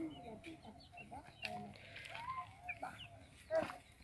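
Faint chicks peeping in high, thin chirps scattered among clucking poultry sounds, with people talking quietly underneath.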